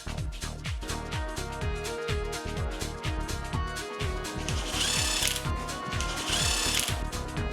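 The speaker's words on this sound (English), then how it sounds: "Tighten them to the specified torque as shown." Rapid, repetitive ratcheting and power-tool whirring while bolts are tightened on a Bajaj Pulsar RS200 motorcycle engine during assembly, steady and close with a few brighter bursts, no talking.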